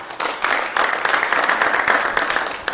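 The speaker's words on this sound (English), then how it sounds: "how about a round of applause for them?" An audience at a school district capital plan meeting gives a brief round of applause for guests, moderate scattered clapping with individual claps standing out, steady and unaccompanied throughout.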